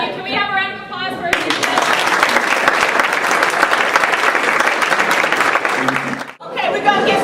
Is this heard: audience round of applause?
yes